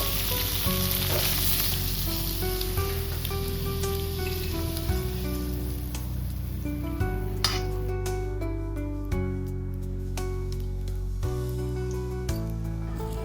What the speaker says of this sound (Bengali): এই পনিরগুলো ভাজা হয়ে গেছে এরপর তুলে নেব